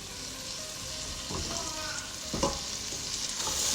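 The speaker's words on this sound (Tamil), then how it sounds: "ஸோ நம்ம இந்த ஸ்டேஜில் சிக்கன் எல்லாம் போட்டுடலாம்." Chicken pieces frying with onion masala in a pan for a chicken gravy, a steady close sizzle with a few louder bursts as the meat is stirred, no talking.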